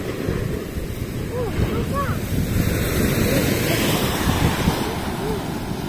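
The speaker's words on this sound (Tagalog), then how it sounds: "Maalon lang." Ocean waves surge and wash continuously with a loud, rushing roar, wind buffeting in the background.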